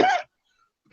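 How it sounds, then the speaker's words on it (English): A single short, sharp cough up close, followed by silence and a faint throat sound. "Got a bad cough, you're going to forgive me."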